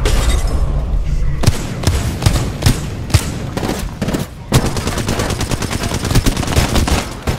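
Rapid gunfire from Digi-threat and Wingman weapons in the video game Apex Legends, with dense clusters of loud shots and a brief lull midway. Players talk over the shooting.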